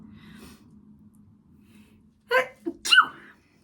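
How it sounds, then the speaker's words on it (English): After a few quiet seconds of low background noise, a single sharp sneeze bursts out close by, with a quick intake of breath just before it. "we're about to sneeze"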